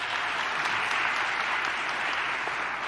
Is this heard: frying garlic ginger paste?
no